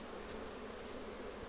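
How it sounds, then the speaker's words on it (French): Honeybees in a hive just after it is tapped during a transfer from a nucleus box to a full hive, giving a steady, dense, close buzzing hum throughout with no talk. "Donc je tape ma ruche. Les abeilles descendent."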